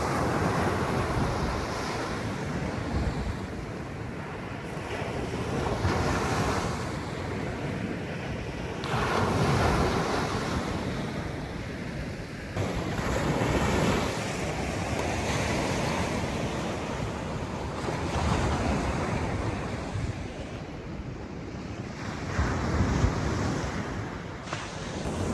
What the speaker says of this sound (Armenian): մի քիչ ջրի ձենը վայելեք